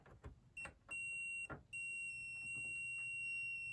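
Steady high electronic beeping from a multimeter on continuity test while fault finding a Bosch condenser dryer, starting in short chirps then holding as a long continuous tone, with faint handling clicks underneath.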